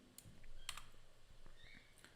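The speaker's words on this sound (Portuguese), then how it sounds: "Se eu for digitando o nome aqui" Quick bursts of typing on a computer keyboard as a name is entered, with soft, scattered clicks that are faint and close, and no talking.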